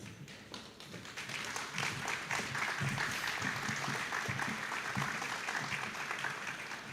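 An audience at a high school band and choir spring concert gives sustained applause from a distance. The clapping is steady and moderately quiet, with scattered louder claps and faint crowd noise underneath.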